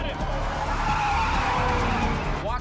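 Car tyres screech in a sustained skid during a U-turn on the Crescent City Bridge, loud and close over a roaring engine, with a rising squeal near the end.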